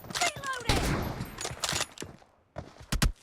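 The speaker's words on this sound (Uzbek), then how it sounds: "Ikkita o'q otyapti, nima bo'lyapti?" Gunshots ring out in a few sharp bursts, loud near the start and again at the end, mixed with talk and background noise.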